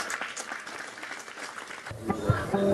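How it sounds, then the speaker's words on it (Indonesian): Audience applause at a talk event, steady clapping from a crowd that continues, then gives way to louder close handling noise and a voice near the end. "Tepuk tangan sekali lagi untuk Mas Sabrang."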